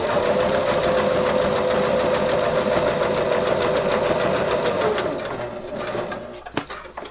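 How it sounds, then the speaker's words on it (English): A sewing machine runs in a steady, continuous buzz as it stitches around the edge of a fabric silverware pocket, then slows and stops near the end, followed by a few light clicks. "Needle down, and I'm going to stitch all the way around."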